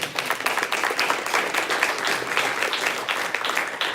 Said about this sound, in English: let's give a round of applause for those people